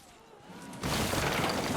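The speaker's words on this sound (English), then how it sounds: "And there we have a nice explosion." A fort explodes during a Napoleonic Wars siege battle in the Call to Arms video game, a sudden loud blast after a quiet lead-in that swells into a sustained roar of crashing debris.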